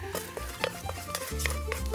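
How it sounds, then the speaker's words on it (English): A spoon scrapes and stirs a thick mixture of coffee grounds, egg and eggshells in a pot, with soft repeated scraping strokes close by and no talking. "Then stir it up."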